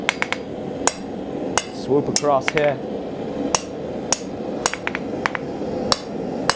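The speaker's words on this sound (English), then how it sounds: "being able to get good at your half hammer face blows" A hammer strikes hot steel while a horse head belt buckle is being forged, sharp metallic blows ringing out at an irregular pace, with someone speaking briefly in the middle.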